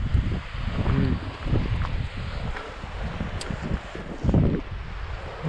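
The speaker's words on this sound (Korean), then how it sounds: "바람이 좀 솔솔 불고 있고 시원하다." Breeze blowing across a canyon hiking trail on the way to a waterfall, heard as steady low wind rumble buffeting the microphone with rustling gusts throughout, no talking.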